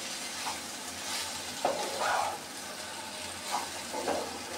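Okra fries in a pan for a simple bhaji, with a quiet, continuous sizzle and a few soft spatula scrapes and stirring bursts, heard alone without talking.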